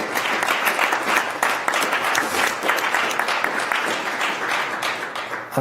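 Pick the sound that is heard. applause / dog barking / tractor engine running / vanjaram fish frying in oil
applause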